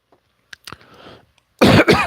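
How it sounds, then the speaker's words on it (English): A soft throat clear comes first, then a loud, harsh double cough bursts out close to the microphone during a baseball broadcast. "I knew I was going to cough on there"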